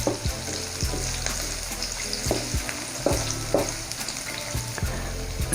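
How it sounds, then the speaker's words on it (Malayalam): Chopped onion sautéing in a pan for a creamy white sauce chicken pasta, a steady close sizzle broken by repeated knocks and scrapes of a spoon stirring against the pan. "ഇതൊന്ന് ചെറുതായിട്ട് വഴറ്റിയെടുക്കാം."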